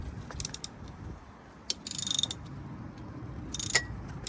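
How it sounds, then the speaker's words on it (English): A ratchet wrench with an extension is turned on an engine accessory bolt, giving a few quick bursts of close, sharp clicking separated by quiet pauses and faint shop noise. "Let's see if an extension works out. I'm trying to get this bolt right there, and I can't seem to get enough leverage."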